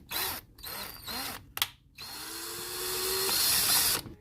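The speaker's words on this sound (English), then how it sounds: "I'm just gonna be drilling this hole a little bit bigger" A power drill whirs in short bursts, stopping and starting, then runs in one longer sustained whine that rises slightly before cutting off, enlarging a hole in a car intake pipe.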